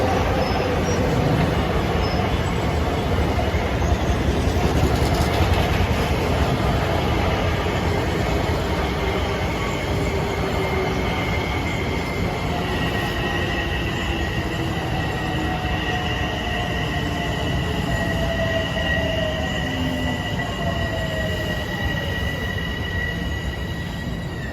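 A Long Island Rail Road train rolls past on the triple track at Westbury during evening rush hour, a loud, sustained rumble with wheel squeal drifting in pitch, close and unbroken for the whole stretch.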